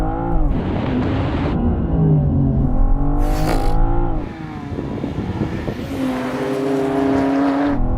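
A race car accelerates hard off the starting line, its engine revving loud and close through rising gear changes with a brief high-pitched burst partway through, and no talking.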